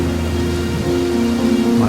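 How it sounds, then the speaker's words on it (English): A heavy rainstorm pours steadily over an RV park, a loud, dense, unbroken roar with a low rumbling undertone from thunder or wind, close and filling the whole stretch. "No sooner than the trailer was unhitched, another storm opened up."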